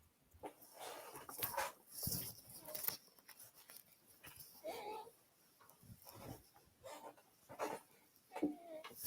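A pet dog whines and whimpers in short, high, broken bursts mixed with quick panting, close by, while someone talks intermittently in a quiet room.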